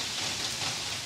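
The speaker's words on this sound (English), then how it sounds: "This kind of rain can last from a week to 2 weeks." Heavy monsoon rain pours steadily in a flood-prone area of India, a dense, even hiss of water falling close by with no pauses or voices.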